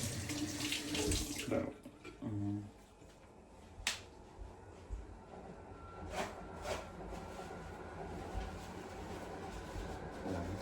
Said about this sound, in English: Let me just wash these 2 real quick and pat dry it.